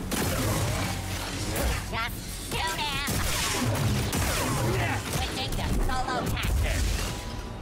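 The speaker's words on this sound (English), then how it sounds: "Oh, I can still hear gunfire." Rapid bursts of gunfire crackle repeatedly over dense game ambience and effects in Star Wars Jedi: Survivor, loud and close, with a voice talking intermittently.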